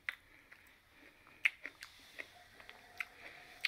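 Someone bites into and chews Thanksgiving leftovers, giving faint, scattered wet chewing clicks and soft crunches close to the mic in an otherwise quiet room.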